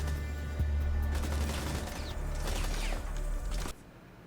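Rapid bursts of gunfire and a sustained fusillade from a Rainbow Six Siege match, loud and close, with sharp cracks over a dense rumble that cuts off abruptly near the end.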